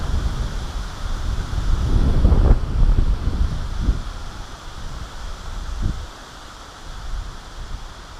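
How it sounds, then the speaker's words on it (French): Strong wind gusts buffet the microphone during carp fishing, a rumbling, uneven rush that surges loudly in bursts and then eases to a softer hiss, with no talking. "Le vent qu'il y a, putain de merde."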